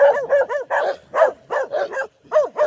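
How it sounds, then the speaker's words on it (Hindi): Several dogs barking repeatedly in a rapid, loud, close volley while chasing off another dog in a hill village, with short yips mixed in and no talking. "जब तक उस कुत्ते को इन लोगों ने भगाया नहीं तब तक इनको चैन नहीं आया।"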